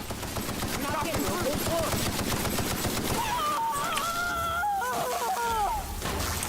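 Game gunfire in The Outer Worlds, rapid bursts crackling steadily for several seconds over a dense battle mix, with voices and other effects layered underneath.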